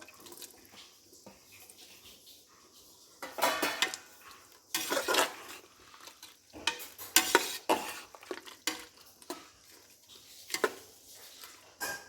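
Tomato and ground masala frying in a pan for mushroom biryani, with a low sizzle under repeated scraping and clattering bursts as a spoon stirs the mixture. The sound is fairly quiet and close.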